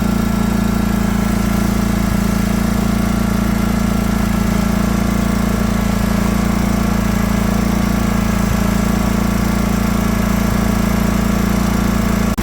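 A riding lawn mower engine, just fitted with a new ignition switch, runs steadily at a loud, constant idle, with a low rumble and buzzing drone throughout and no talking.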